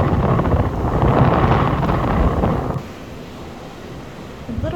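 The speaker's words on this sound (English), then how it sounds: "the wind gets more and more intense" Strong wind on a mountain trail in Monteverde, Costa Rica, roaring and buffeting the microphone loudly for a few seconds before dropping to a softer steady rush.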